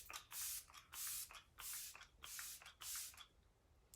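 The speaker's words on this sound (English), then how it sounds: "we're gonna finish it with the refinishing spray" Arbonne Let It Set refinishing spray misted from a pump bottle in five short, evenly spaced bursts, each a soft airy hiss, close and fairly quiet with brief pauses between.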